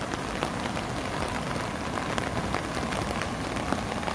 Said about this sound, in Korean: 지금 계속 지금 비가 내리고 있습니다